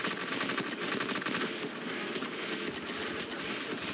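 Rail gunner towers in the Roblox game Tower Defense X fire without pause in a dense, rapid stream of electronic shots, a loud and continuous barrage of crackling blasts with no voices.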